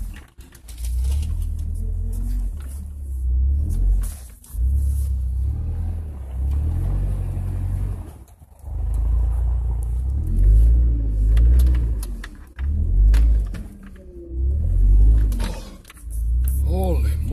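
Toyota Tacoma truck wheeling along a snowy trail, its engine droning low and steady with surges of revving, while people talk over it in short bursts.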